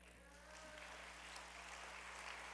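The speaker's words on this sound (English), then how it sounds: "we're going to ask if you will please hold your applause" An audience at a community mayoral forum applauds with a faint, distant patter of clapping that swells slightly and holds steady.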